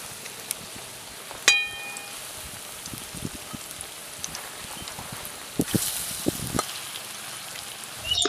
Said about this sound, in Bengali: বাকি কোপ্তাগুলোকে ওই তেলের মধ্যে দিয়ে ভালো করে ভেজে নাও